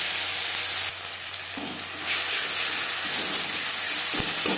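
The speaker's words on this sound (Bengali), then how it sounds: "পাঁচ ফোড়ন ভেজে নেওয়ার পর দিয়ে দিলাম ছোটো এক চামচ আদা বাটা দু চামচ কাঁচা লঙ্কা বাটা" Ginger and green chili paste hit hot oil with panch phoron for a katla fish curry, giving a close, loud hissing sizzle that swells sharply partway through and carries on steadily, with light stirring.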